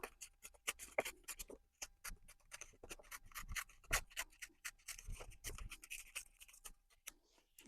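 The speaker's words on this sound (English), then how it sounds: "I'm just going to tear that edge off." Paper edge being torn off a pocket for a junk journal, close, quiet crackling and rubbing in short irregular strokes, with no voices.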